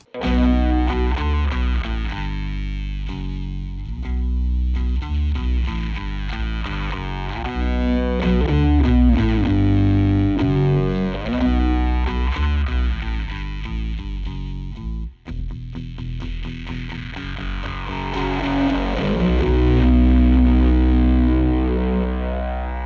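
Heavily distorted stereo fuzz from a Death by Audio Crossover Fuzz pedal plays continuously and loud, its tone sweeping and shifting as an expression pedal ramps, with a brief break midway before swelling again.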